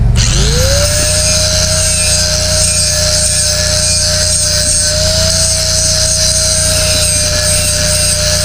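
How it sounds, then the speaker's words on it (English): A power tool cuts paint off a metal gate before welding, giving a loud, steady, continuous grinding whine close by that spins up at the start and holds an even pitch throughout, with no talking. "Cut some more paint off so we get a good weld there."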